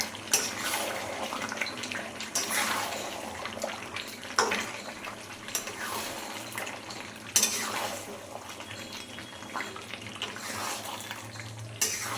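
A spoon scrapes and clatters in a pot as chicken curry masala with potatoes is stir-fried, steady wet stirring with occasional sharp knocks against the metal, no talking.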